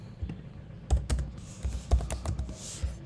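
Typing code on a computer keyboard, a close sequence of a dozen or so crisp key clicks in uneven bursts with short pauses, no voices over it.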